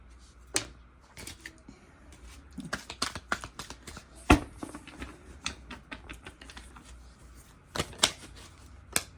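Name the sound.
shuffling a deck of cards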